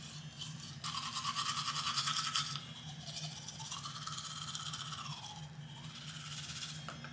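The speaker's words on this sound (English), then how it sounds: "I just finished brushing my teeth" A Quip electric toothbrush buzzes while brushing teeth, a faint steady close-up hum with scrubbing rasp that grows louder for a stretch, changes pitch briefly as it moves, then continues, with no talking.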